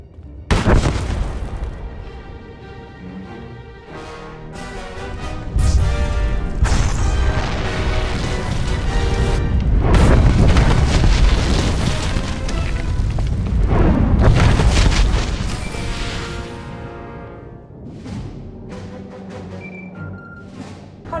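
Video game explosion from Star Wars: The Old Republic, a sustained series of loud booming blasts and rumbling bursts that swell and fade over about twenty seconds, with no talk over it.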